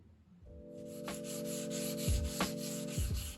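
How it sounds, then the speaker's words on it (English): Legs of a designer teak coffee table being sanded with 180 grit sandpaper, with steady close rubbing strokes and a few sharper scrapes over a low humming tone. "I gave the legs and apron a final sand with 180"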